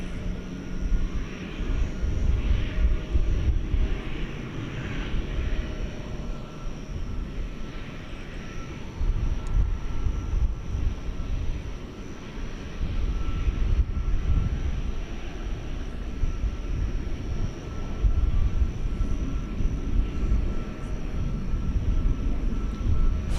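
A Qatar Airways jet airliner taking off from DFW bound for Doha at night, a long rumbling roar that swells and fades in waves as it climbs away, heard alone with no talk.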